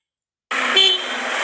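A car horn blasts once, loud and close, after a moment of silence and holds for about a second, in a motorcycle road incident.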